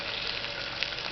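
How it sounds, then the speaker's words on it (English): Steady close sizzling of cauliflower manchurian frying in a pan as tomato sauce is added and mixed in, a continuous bright hiss with faint clinks and scraping of stirring. "The tomato sauce, let's put in. Then mix."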